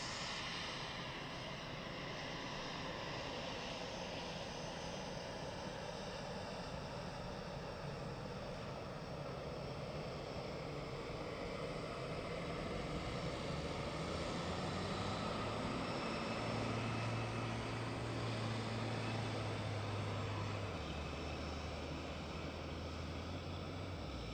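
An EasyJet airliner taxiing past at Gatwick Airport, a steady broad engine roar with a low rising and falling hum, sustained and close throughout.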